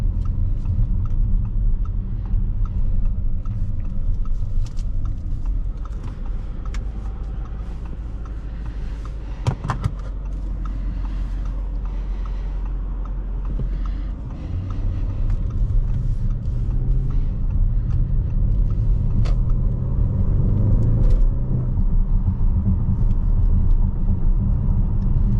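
A 2017 Audi RS7 with a 4.0T engine driving on the road, heard from inside the cabin as a continuous loud low rumble of engine and road noise that swells deeper partway through, with no talking.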